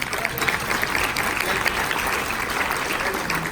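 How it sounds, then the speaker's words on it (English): A room of guests at a Sikh benefit dinner breaks into sustained applause, a thick continuous patter of many hands at moderate loudness, steady throughout with a faint crowd murmur beneath. "A big round of applause, please"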